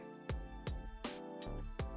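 Several sharp keystroke clacks from a Keychron K2 HE mechanical keyboard in an irregular rhythm, close and moderately loud, with a muted, soft-edged character rather than a crisp click.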